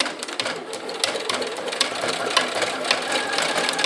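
A sewing machine stitches slowly over the teeth of a hidden zipper on a pillow cover, a close, continuous rapid mechanical whirring and ticking with no talk.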